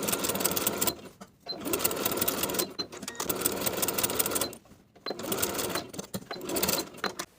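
A sewing machine runs in long, loud basting runs, tacking pockets onto the front pant pieces of elastic-waist shorts. Three sustained bursts are separated by brief pauses.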